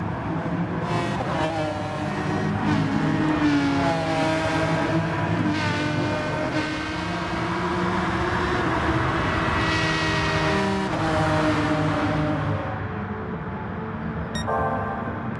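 Three or four race cars battle for one position on a track in a racing video game, their engines droning and revving continuously at high pitch, with a brief burst of speech as the sound ends.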